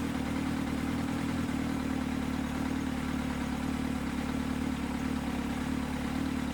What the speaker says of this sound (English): You need to come away and blip the throttle to see what the true effect of that adjustment is.